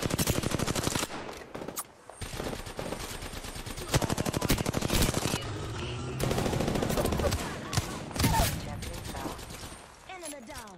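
Rapid, loud automatic gunfire from the Apex Legends video game crackles in dense bursts with short gaps between them, along with mechanical clicks and reload sounds.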